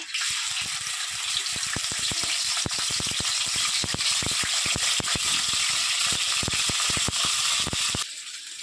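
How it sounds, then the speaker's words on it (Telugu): Prawns dropped into hot oil for a village-style prawn curry fry loudly and continuously, a dense crackling sizzle thick with rapid pops that eases slightly at the end, close up and with no speech. "ఆయిల్ హీట్ ఎక్కిందే రొయ్యలు అయితే వేసేస్తా ఉన్నానండి ఆయిల్లో"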